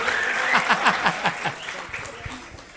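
Applause and scattered chuckles from a bar audience at a stand-up comedy show, moderate clapping partly under a voice that continues talking.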